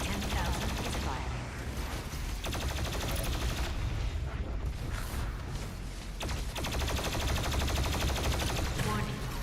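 The BLG 10,000 cannon firing in Doom Eternal, a dense, loud barrage of booming blasts and mechanical clatter that runs without pause through the whole stretch.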